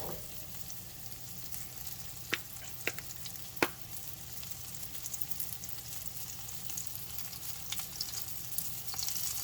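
Sesame chicken pieces fry in a pan until crispy, giving a steady, close sizzle with a few sharp pops and crackles and no talking.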